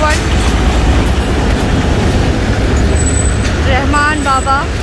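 A tourist safari train locomotive runs in Pakistan with a loud, continuous low rumble, and brief squealing tones come near the end. Someone talks over it.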